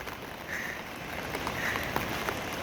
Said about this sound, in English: A little sprinkle of rain.